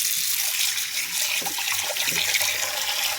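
A bowl is rinsed under a running kitchen tap, with steady, loud gushing water splashing close by.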